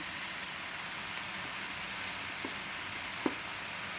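Chopped tomatoes for tomato chutney sizzle in a pan: a steady, even frying hiss with a couple of faint pops and clicks, heard alone without talk.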